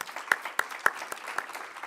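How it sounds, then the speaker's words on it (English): Audience applause for an honorary consul at an opening-remarks event, a short burst of clapping from a modest crowd, with individual claps standing out sharply, brief and without talk. "Please stand up, and a big applause to her."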